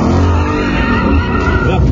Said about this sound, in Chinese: 野马它不用关什么循迹，它就甩得起来了。